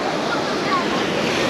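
Wind sweeps across a sea beach at Lazarevskoye near Sochi as a steady broad rush, blended with soft surf and gusting against the microphone, heard briefly and without pause.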